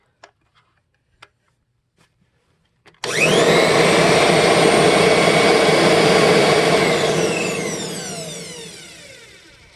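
A few faint clicks, then a refurbished 2001 Kirby G6 upright vacuum cleaner with new bearings switches on with a loud, steady roar that slowly winds down in pitch.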